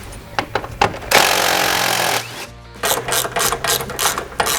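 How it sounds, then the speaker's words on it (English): A ratchet clicks rapidly while removing strut tower brace bolts on an S550 Mustang, with close metallic ratcheting bursts and a longer sustained stretch of loud mechanical noise in a garage. "Now I'm going to go ahead and take off this strut tower brace while Aiden's going to get started"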